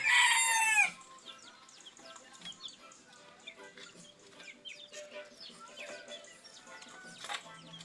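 Talisayin bantam rooster, a loud crow at the start followed by softer, scattered clucking and chicken calls nearby.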